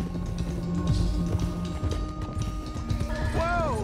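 Horses in Red Dead Redemption 2 clip-clop steadily throughout, with a sharp whinny rising near the end over busy game ambience and music.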